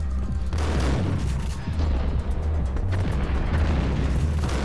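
Shotgun blasts from the Max Payne video game pound away in a loud, nearly continuous barrage of booming reports with deep low-end thump.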